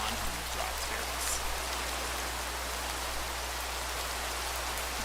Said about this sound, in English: Probably should be waiting until after the rain for this.